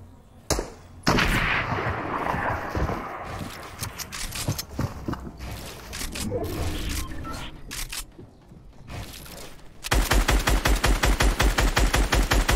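Gunfire in the Fortnite video game, heard as scattered shots and bursts mixed with game effects, then a long rapid run of evenly spaced shots at the end, loud and close.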